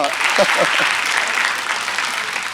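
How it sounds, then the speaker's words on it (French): Loud, steady applause from a crowd at a children's competition semi-final, a dense wash of clapping that continues without a break. "On va l'applaudir."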